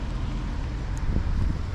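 Wind buffets the microphone in a steady low rumble during rain in the Netherlands, with faint background noise and no talking.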